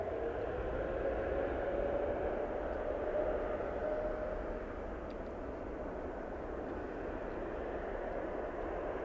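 A plane takes off at night at Toronto Pearson Airport on Christmas Day, its engines a loud, steady roar that holds for the whole stretch with no voices.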